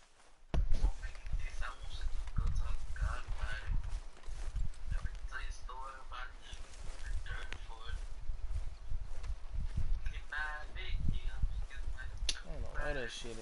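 Horse hooves clip-clopping in the video game Red Dead Redemption 2, a steady walking rhythm of hoof falls mixed with game sounds, while people talk over it throughout.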